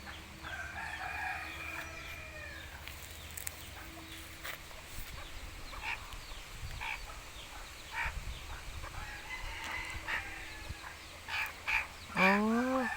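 Bantam chickens clucking throughout with a rooster crowing nearby near the end, plus other scattered bird calls and outdoor background noise.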